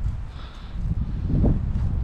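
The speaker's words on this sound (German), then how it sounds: "Es ist auch echt windig." Gusty wind buffets a microphone outdoors at a horse stable, a low rumbling roar that swells and stays strong throughout the short stretch, with no talking.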